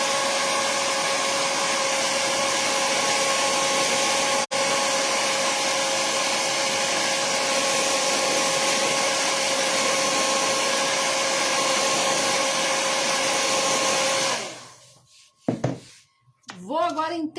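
An electric dryer blows a loud, steady, even whoosh over paint on a paper-cut artwork for about fourteen seconds with one brief cutout, then shuts off, and a voice starts speaking afterward.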